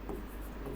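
An equation is written out by hand in a maths lesson, a brief faint scratching of writing over a low background hum.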